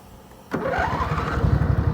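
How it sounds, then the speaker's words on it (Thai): A fully hydraulic bladed machine, fresh with a new battery, new engine oil and a new blade, cranks and fires up abruptly, then settles into a rough, pulsing idle close by. "เอาติดเครื่องให้ดูครับ"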